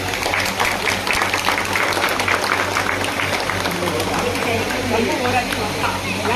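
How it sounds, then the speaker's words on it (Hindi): Outdoor crowd of neighbourhood residents applauding to welcome an independent ward election candidate during a campaign visit to a colony, steady continuous clapping with a constant low hum and voices mixed underneath. "यहाँ आने पर उनका स्वागत कर रहे हैं तालियों के साथ।"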